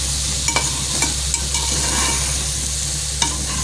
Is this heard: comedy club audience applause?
no